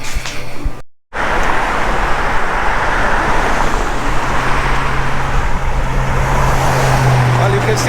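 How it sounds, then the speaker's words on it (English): Steady road traffic passes near the ruins of an old sugar mill at Kualoa Ranch, a continuous loud wash of cars and heavier vehicles with a sustained low engine drone, briefly cut out near the start. "you can see there's a lot of traffic here"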